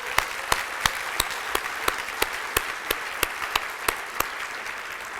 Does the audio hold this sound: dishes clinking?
no